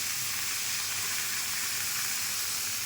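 Potatoes with ginger and salt fry in a pan for aloo dum, giving a dense, steady sizzle and hiss that stays loud and unbroken throughout, with no talking.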